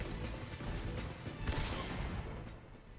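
A dense, rumbling barrage of explosions and gunfire in Metal Gear Solid 3: Snake Eater, loud and continuous, with a heavier boom in the middle before it fades slightly.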